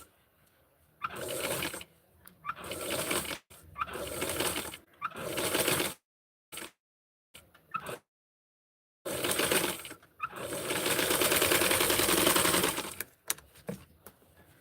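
Small home sewing machine stitching a Barbie doll dress, running in several short bursts of rapid mechanical whirring separated by silent pauses, with a longer steady run near the end.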